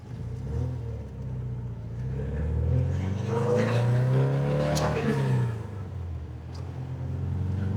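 Porsche 914 accelerating through the gears after a shifter repair, the engine note climbing, dropping at a shift and rising again, heard from inside the car, steady and moderately loud with no talking.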